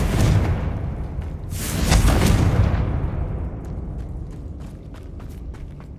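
Booming Confringo spell blasts from Hogwarts Legacy burst close and heavy, a swelling explosive rumble that peaks then decays into crackling, scattered debris-like snaps.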